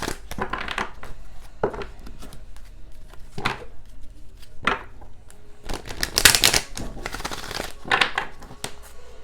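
A deck of tarot cards is shuffled in a series of quick riffling bursts with brief pauses between, close by and moderately loud.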